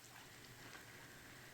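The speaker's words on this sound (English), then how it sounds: "It's raining, but we don't care." Rain falls steadily on a lake during a canoe outing at Charleston Lake Provincial Park, Ontario, making an even, continuous hiss with no breaks.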